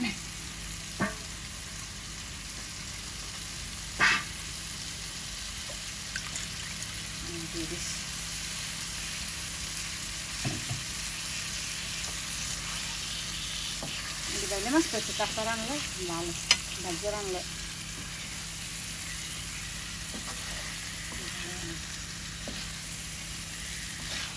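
River baila fish and potatoes cook in a spiced gravy in a pan, with a quiet, steady sizzle, occasional knocks of stirring and a brief murmur of voices midway.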